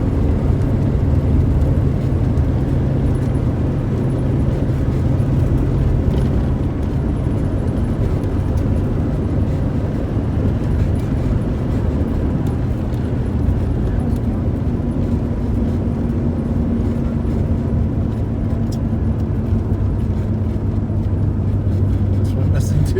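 A 1976 Ford Mustang II drives along a wooded road, its engine and road noise forming a steady, continuous drone from inside the cabin as people talk over it throughout.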